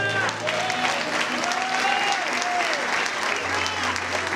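Church congregation applauding during a worship service, steady dense clapping throughout, with a voice speaking and tonal musical sounds underneath.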